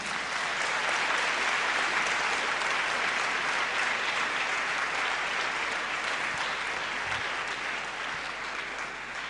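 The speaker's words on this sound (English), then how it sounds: "Let me hear you clapping." A large audience at a university talk claps steadily in a dense, even roar of hands that carries on for around nine seconds without letting up.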